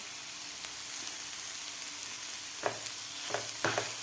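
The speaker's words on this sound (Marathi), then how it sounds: "आता व्यवस्थित आपल्याला मिक्स करून घ्यायचं आहे." Masala toast filling of vegetables with Kashmiri red chilli powder, roasted cumin powder, chaat masala and salt being stirred in a pan, a steady soft sizzle with a few brief scraping stirs near the end, no talking.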